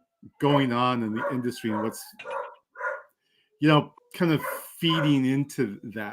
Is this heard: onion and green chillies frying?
no